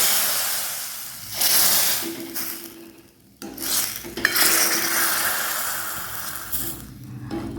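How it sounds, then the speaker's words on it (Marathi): Loud sizzling hiss as hot oil tempering is poured into boiling kadhi, swelling and fading in bursts with some scraping of a utensil against the pan, close by. "ते आपल्याला कडीमध्ये तडका द्यायचे"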